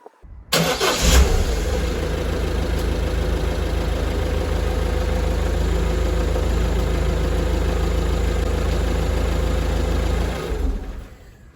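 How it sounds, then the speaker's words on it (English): A car engine cranks briefly and catches fast on a healthy battery, then settles into a steady, close, loud idle that runs for about ten seconds before cutting off, with no talking. "hopefully the camera will pick up the sound of a strong starting car"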